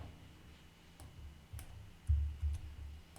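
Computer mouse clicks sound as a few soft, close taps spaced irregularly, with a slightly stronger pair near the end, in a quiet room.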